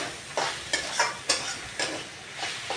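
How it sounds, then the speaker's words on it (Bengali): Leafy greens stirred while frying in a kadai over lowered heat, with a steady close sizzle and about six sharp scraping strokes of the spatula at an even rhythm. "আমাকে এখন নাড়তেই থাকতে হবে যাতে শাকটা না লেগে যায় কড়াইয়ের সাথে।"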